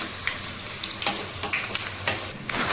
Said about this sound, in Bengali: সবশেষে কাজু বাদাম, সেটাকেও হালকা করে ভেজে নেবো গোল্ডেন হওয়া অব্দি।